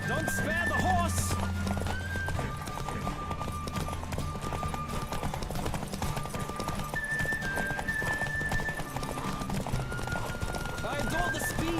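Hooves clip-clop in a fast, steady galloping rhythm in The Witcher 3: Wild Hunt, joined by a brief horse whinny, with voices talking over the running.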